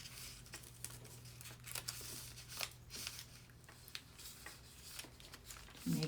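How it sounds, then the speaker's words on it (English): Paper being folded over a cut plastic bag to form a flap for a junk journal, with soft, close crinkling and rustling handling noises coming in small bursts against a quiet background. "And then you fold your paper over."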